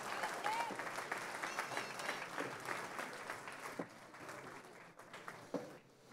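Applause from an audience at a school board meeting honoring students who made the region band: a dense, sustained patter of clapping that thins out toward the end, with some voices mixed in.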